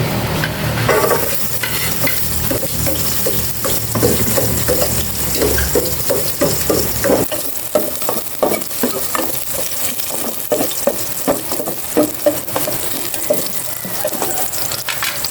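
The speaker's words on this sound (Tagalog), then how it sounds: "Maglagay na po ako ng cooking oil. And gisa ko na ito. Bawang." Garlic sautéing in cooking oil outdoors, a steady loud sizzle and frying hiss with repeated stirring scrapes of a utensil against the pan throughout, close up and alone with no talk.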